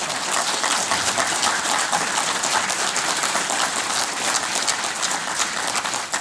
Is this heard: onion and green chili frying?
no